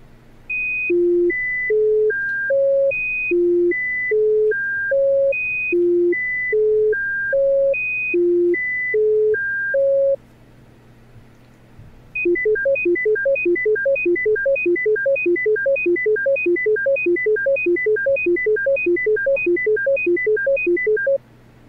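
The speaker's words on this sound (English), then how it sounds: "You will hear a cycle consisting of three high tones interleaved with three low ones." Pure electronic tones cycle through three high pitches interleaved with three low ones, first played slowly as evenly spaced beeps, then after a short pause repeated rapidly in a quick, steady pattern; clean and loud, with no voices.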